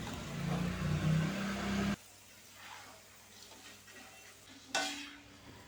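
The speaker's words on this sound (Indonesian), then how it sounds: "kita aduk terus ya, kita bolak-balik supaya matangnya merata dan tidak gosong" Potato sticks for crispy kentang mustopa fry in oil while being stirred and turned, loud sizzling for two seconds, then a quieter bubbling hiss with light scraping and another brief burst of sizzle near the end.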